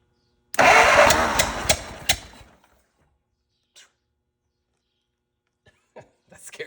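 A 104-year-old Ford Model T engine fires once in a loud, sputtering burst of pops lasting about two seconds, then dies away, leaving only a few faint knocks and clicks afterward.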